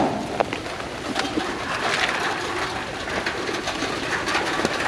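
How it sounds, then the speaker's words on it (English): Pigeons flock for food at a temple in Chiang Mai, Thailand, with soft cooing and fluttering wing flaps over a busy, steady outdoor hum, with no talk. "Wow, the birds are already coming."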